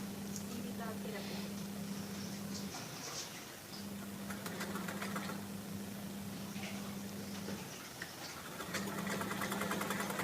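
Sewing machine stitching a blouse placket, running in long steady bursts with brief pauses between them, its motor hum continuous and close, with fabric handling noises mixed in.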